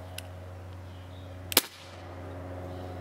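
Single sharp crack from an Echo 1 Timberwolf gas blowback airsoft pistol, a brief loud snap over a steady low hum, with a faint tick just before it.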